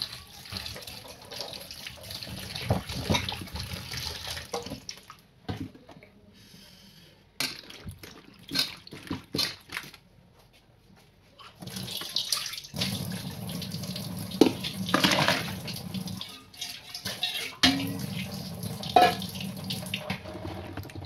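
Running tap water washes freshly cut bottle gourd pieces in a sink, a splashing stream that starts, pauses and resumes in bursts with light drips and clatter in between.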